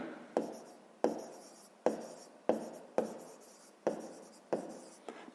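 Chalk-like strokes on a board during a sixth-grade maths lesson, about eight sharp taps and scratches in an even rhythm, each fading quickly, close and fairly quiet with no voices.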